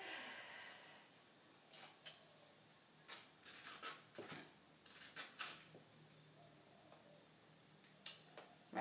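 A vegetable peeler scraping along a mango for a Thai mango salad, producing short, quiet scratchy strokes in an irregular rhythm, close and faint with no voices.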